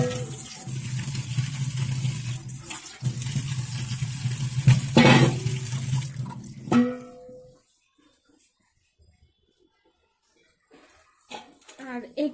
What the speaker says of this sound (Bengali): আর এখানে আমি এই শসা এগুলো ধুয়ে নেব, ধোয়ার জন্য দিচ্ছি।